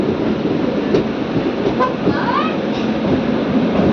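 A train rumbles at Guntakal junction, a steady loud rolling roar with faint clacking and a brief squealing tone partway through, heard close on the platform.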